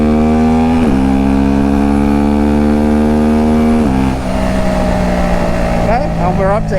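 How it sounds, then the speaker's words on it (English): A Husqvarna Vitpilen 401 motorcycle engine pulled at full throttle, a loud, close, steady drone that climbs in pitch through each gear, with two abrupt drops at the gear changes and wind rushing over the microphone. "Let's go ahead and open it up. Okay, that's full throttle."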